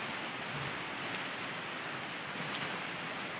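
Heavy rain pours among trees around a house, a loud, continuous wash of drops that never lets up, with no talking.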